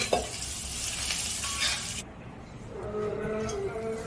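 Crab rasam soup bubbles and hisses at a rolling boil in a pot, a steady sizzling wash of sound that eases slightly partway through.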